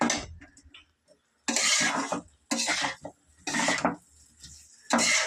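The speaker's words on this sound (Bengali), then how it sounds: "এবারে ভালো করে মিশিয়ে নেব" Food is stirred and mixed in a cooking pot with chopped tomato, giving bursts of close scraping and clinking from a utensil against the pot, separated by short pauses.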